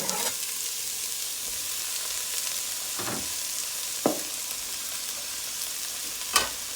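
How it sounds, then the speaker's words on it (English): Onion, pepper, garlic and green onion frying in a pot for goat and squash stew, a steady hiss broken by three or four sharp spoon scrapes and clinks as it is stirred, with no talking. "I will give this a stir"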